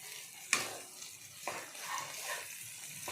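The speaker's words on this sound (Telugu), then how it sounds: "అల్లం వెల్లుల్లి వేగింది." Ginger garlic paste fries in a pan for mutton kurma with a soft, faint sizzle, broken by a couple of sharp scrapes of a spatula stirring close by; no one talks.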